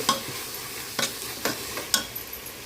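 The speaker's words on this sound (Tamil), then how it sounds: "புதினா கொத்தமல்லி கொஞ்சம் போட்டு கிண்டிக்கலாம்." Chicken with yogurt, mint and coriander for a quick chicken biryani is stirred in a pan with a soft sizzle, and four or five sharp spatula scrapes fall at roughly even intervals, close and quiet with no talking.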